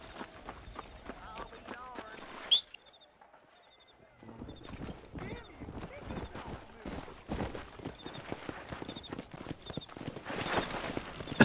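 In the Red Dead Redemption game on Nintendo Switch, a horse's hooves clip-clop in a quick, steady gallop, close and fairly quiet, with a brief pause partway through and a repeating high game tone above.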